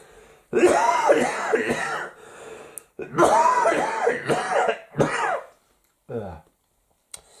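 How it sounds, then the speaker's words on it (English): Two long bouts of harsh, rasping coughing and throat clearing, each with several chesty bursts, followed by a few quieter coughs. "Still a bit of a cough."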